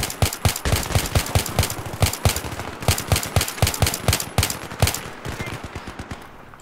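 Sustained automatic gunfire in Battlefield 3, with loud rapid bursts of shots in an uneven rhythm that runs throughout and thins toward the end.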